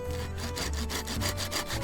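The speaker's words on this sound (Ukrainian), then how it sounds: "Спробуємо попрацювати цією пилкою." A cheap hand saw with a rubberized grip cuts through wood in steady, rasping back-and-forth strokes, loud and close, with no voices.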